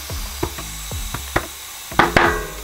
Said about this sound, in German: dieses Klacken, was ihr gerade gehört habt, ist dafür da oder ist das Zeichen, dass der Reifen ordentlich in das Felgenbett gerutscht ist.